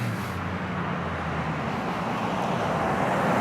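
Road traffic with cars passing back and forth, a continuous broad roadway rumble and tire hiss that swells slightly toward the end, with no talking.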